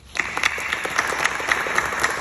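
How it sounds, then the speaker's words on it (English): An audience at a University of Pittsburgh AFROTC commissioning ceremony breaks into steady, full applause honoring veterans, with many hands clapping together and sustained from start to finish. "Big round of applause, please."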